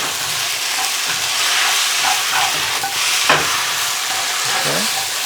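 Beef ho fun noodles are stir-fried in a hot wok: a loud, continuous close sizzle with bursts of scraping and tossing, and no talk.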